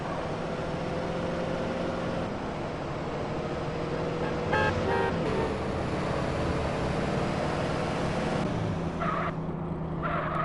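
Steady engine drone of a car driven in GTA San Andreas, with game music and a brief honk-like burst midway, continuous and fairly loud throughout.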